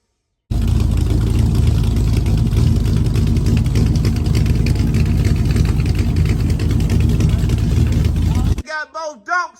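A 1972 Chevrolet Impala with a swapped-in LS3 V8 runs steadily and loudly for about eight seconds, a dense low rumble that cuts off abruptly, followed by a few brief voiced sounds.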